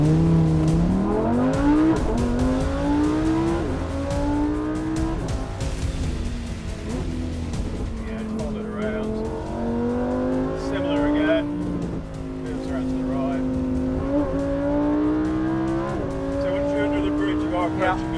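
A Lamborghini at the Goodwood Festival of Speed climbs the hill, its engine revving and rising in pitch through repeated gear changes, loud and close from inside the car, with people talking over it throughout.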